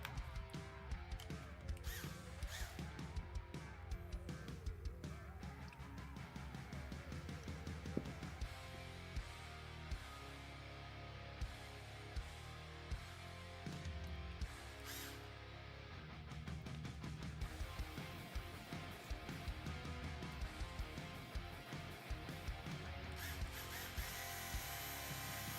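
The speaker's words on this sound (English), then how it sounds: "Okay, there's gonna be a lot of this. Let's use the driver." Ratcheting clicks from a driver fastening screws into RC car suspension links on a workbench, repeating steadily throughout over a busy mechanical background, close and fairly loud.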